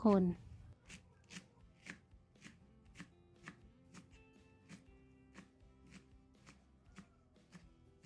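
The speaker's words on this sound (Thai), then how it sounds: "ตามต่อด้วยต้นหอมผักชีแล้วก็ผักชีฝรั่ง ซอยให้เป็นชิ้นเล็กๆนะคะ" A knife chops spring onions, coriander and parsley in a steady rhythm on a cutting board, about one crisp, close tap per half second, with a faint background hum.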